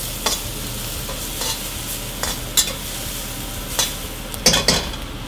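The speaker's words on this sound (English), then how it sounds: "In go the onions." Onions stirred in hot oil in a pan while cooking lomo saltado, a steady sizzle broken by a handful of sharp scrapes and clacks of the utensil against the pan, close and clear with no talking.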